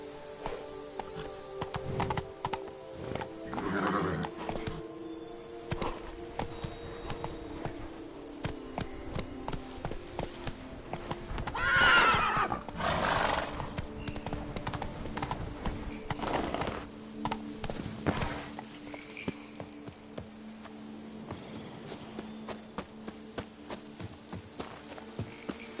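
A horse in The Witcher 3 gallops with a steady drumming clip-clop of hooves, letting out a neigh and snorts along the way, with game ambience behind it and no talk.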